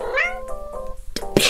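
A black kitten with yellow eyes gives a clear, close meow that rises and falls, followed by a couple of soft rustles and a bump inside a box.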